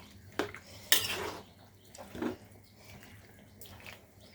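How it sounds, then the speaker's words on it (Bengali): A utensil stirs mango pickle in a pot with intermittent scrapes and clinks against the metal, quiet and close, with wet shuffling between strokes. "এখন আমি আরো একটু নেড়ে চেড়ে দিচ্ছি, উপরের গুলা নিচে ঢুকাই দিচ্ছি, নিচের গুলো উপরে তুলে দিচ্ছি"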